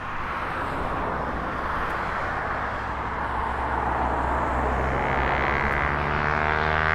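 A small Ryanair jet taxiing out at East Midlands Airport holds a steady engine whine and rumble that grows slightly louder toward the end, with no talk.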